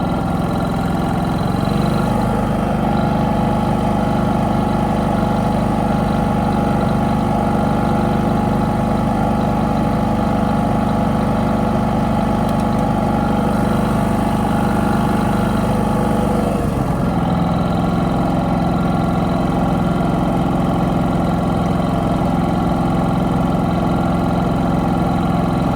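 A portable generator running steadily with eco mode switched off, a close, loud continuous engine drone with a slight shift in pitch partway through.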